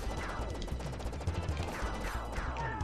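Enemy gunfire in the game Contra III: The Alien Wars, dense rapid retro shots and explosions over a loud, busy soundtrack, steady and continuous.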